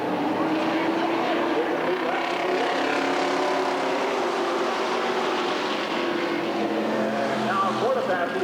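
Street stock race cars, including a Camaro and a Chevy, running a 10-lap heat race at a dirt oval raceway, a continuous roar of several engines with a commentator talking over it.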